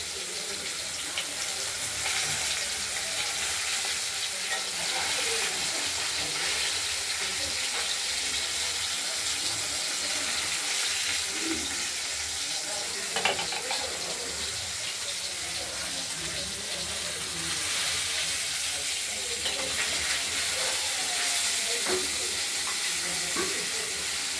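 Steady, dense sizzling of coriander leaves frying in a pan for a katla fish curry, a continuous hiss that carries on unbroken with no one talking.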